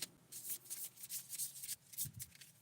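A deck of cards is riffled and shuffled in quick bursts of soft, papery fluttering, close and quiet.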